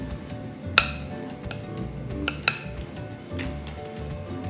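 Sprite pork adobo being mixed in a metal pot, with scraping strokes and a few sharp utensil clinks against the side over a low background hum, close and fairly loud.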